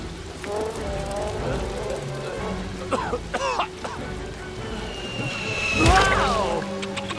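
Steady hiss of falling rain in the animated film Bee Movie throughout, with a few short chirpy vocal sounds in the middle and a louder swelling whoosh near the end.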